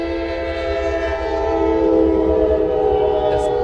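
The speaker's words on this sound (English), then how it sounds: "Now train number 2 come by." A passing train sounds its horn in a loud, sustained chord close by, while a low rumble of the rolling cars runs beneath it.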